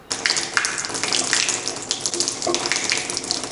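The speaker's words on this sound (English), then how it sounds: "let water flow from the tap for about 3 minutes" Water runs steadily from a newly installed boiling water tap while the tank is flushed through, giving a continuous close splashing rush with small surges and no voices.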